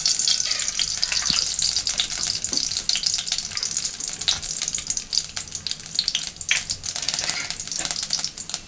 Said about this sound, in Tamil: கடுகு பொடி சத்தம் கேட்குதுங்களா